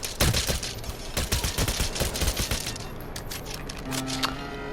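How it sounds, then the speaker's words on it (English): A pistol fired on full auto in Cyberpunk 2077: a rapid burst of sharp, close shots in a dense rattle, then a few separate cracks trailing off over a low electronic hum. "This pistol is a pistol which you can tap, but you can also full auto it."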